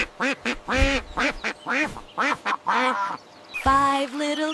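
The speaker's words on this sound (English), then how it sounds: "Quack, quack, quack." A duck quacks repeatedly in quick bursts, close and loud, with short pauses between series of nasal calls.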